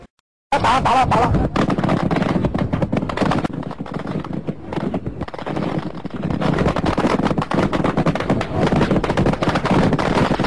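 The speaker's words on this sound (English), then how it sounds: "the Chinese used battleship for firing with 37mm anti-aircraft guns directly at the unarmed and light-armed Vietnamese sailors on the reefs" A Chinese battleship fires 37mm anti-aircraft guns at reefs in the Truong Sa archipelago in 1988, a loud, dense, continuous barrage of rapid shots close by.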